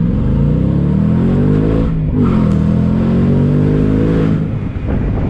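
A 2021 Shelby GT Speedster, a Mustang convertible, accelerates on throttle; its engine note climbs steadily and loud, with a dense rumbling drone that dips briefly mid-pull before surging again, heard close and alone without talk.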